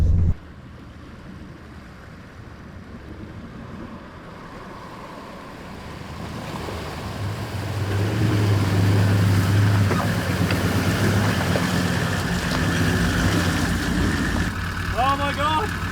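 A vehicle fords a deep Pilbara river, water sloshing and surging against it with a heavy low rush that builds midway, while people talk and exclaim over the top.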